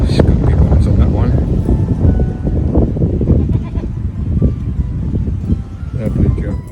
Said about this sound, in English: Wild mountain goats.